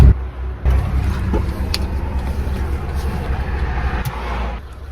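A car drives on mountain roads in Eswatini with a loud, steady low engine and road rumble heard from inside, broken by a short dip near the start and a few faint knocks and clicks.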